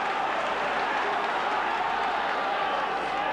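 A roaring 50,000-strong rugby league crowd at Old Trafford during a St Helens versus Australia tour match, a dense, steady wall of cheering and applause that fills the stadium without a break.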